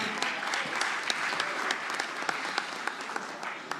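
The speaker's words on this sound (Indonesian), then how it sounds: "kita berikan tepuk tangan yang meriah" An audience at an Indonesian political party event applauds in a steady round of clapping with crisp individual claps, moderately loud and sustained throughout.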